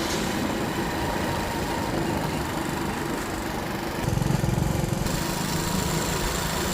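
A motorbike engine runs close by with a continuous buzzing drone and no pauses, getting a little rougher and louder partway through.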